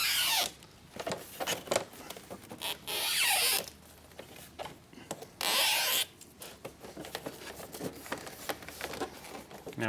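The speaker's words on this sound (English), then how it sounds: "Now we drill it in." A power drill bores in short bursts while fitting a lip kit to a Ford Focus RS, with loud whirring spells separated by quieter handling and rubbing noises.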